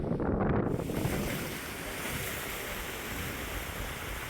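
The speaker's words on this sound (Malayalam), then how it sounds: "എറണാകുളം ജില്ലയുടെ തീരദേശങ്ങളിലെല്ലാം കടലാക്രമണം രൂക്ഷമാണ്" Sea surge pounding the Ernakulam coastline during a rough-sea spell in the monsoon, heard as a continuous loud roar of waves mixed with gusting wind, with a heavier burst at the start.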